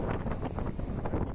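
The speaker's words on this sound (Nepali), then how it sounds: "तपाईँले सुन्नु भएको कि छैन हावा चलिरहन्छ" Wind blows across open countryside and buffets the microphone in a continuous low, gusty rumble, with no voices.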